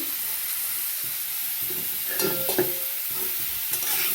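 Potatoes and chopped brinjal stirred into hot oil in a wok make a steady hiss, with clattering spatula scrapes and pops midway, close up and without voices.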